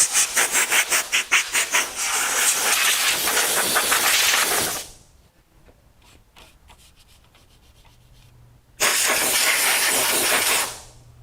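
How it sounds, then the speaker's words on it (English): Compressed air from a blower blasts out car headlight brackets during a Beetle front-end install, a loud close hissing rush in two long bursts, the first pulsing rapidly before steadying, with a quieter pause between. "What did I just do with my blower? I want to blow out the headlight carriages or"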